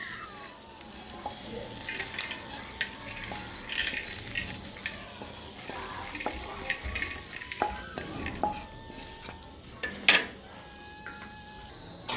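A ladle stirs and scrapes through curry leaf kuzhambu ingredients roasting in a pan, with a soft sizzle underneath and frequent close metallic clinks throughout.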